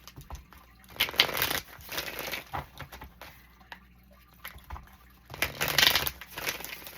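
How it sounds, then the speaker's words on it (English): Tarot cards are shuffled by hand in bursts of riffling and crinkling, a couple of louder flurries separated by quieter handling, close and dry. "Okay, last shuffle."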